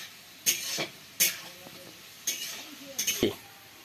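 Potatoes frying in a pan for a shrimp fritter curry, with several bursts of sizzling and stirring scrapes at irregular intervals against a low background hiss.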